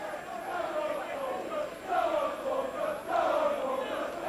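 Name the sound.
football stadium crowd at Falkirk match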